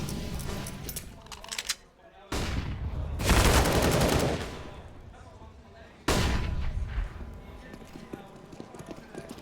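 Gunfire in a Counter-Strike esports match on the Overpass map: loud bursts of shots arrive in separate clusters, a brief gap between them, with a caster talking over the exchange.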